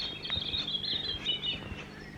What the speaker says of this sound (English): That's a robin just there, you can hear.